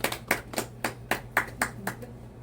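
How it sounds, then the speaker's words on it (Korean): Applause during a church service, a short burst of about nine sharp, evenly spaced claps, close and moderately loud, like a small group clapping in rhythm. "박수 한번 쳐주십시다"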